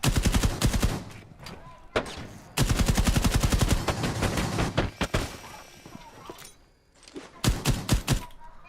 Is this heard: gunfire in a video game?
yes